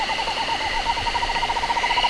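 Screech owl call played from a smartphone app, a steady quavering trill repeating loudly and continuously with no talk.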